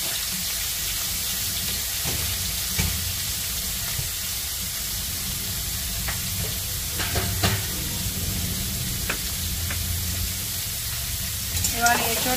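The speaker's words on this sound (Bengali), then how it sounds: "এবার এঁচোড়টা ভালো করে নেড়ে নিই" Boiled young jackfruit is stirred in a pan over a steady sizzle, with scattered scrapes and knocks of a spatula at irregular intervals, close up, while low background noise runs underneath.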